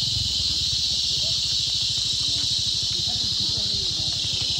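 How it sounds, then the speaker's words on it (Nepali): Dashain-season insects shrilling in the jungle around a hill village in Pakhribas, a dense, unbroken high-pitched buzzing drone that holds loud and steady throughout, with a low throbbing rumble pulsing underneath. "दसैँ किराहरू पनि मजाले कराउँदैछ जङ्गलमा।"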